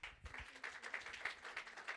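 Congregation applause during a Haitian evangelical church Sunday service, faint, fairly steady clapping with a couple of low thumps near the start.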